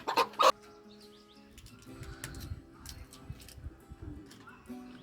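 A sick hen gives a few sharp, loud clucks at the start, then quieter rustling and scattered soft clucking follow while she is handled and dosed with a tablet.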